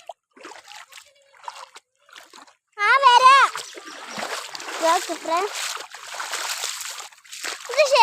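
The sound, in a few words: feet splashing through rainwater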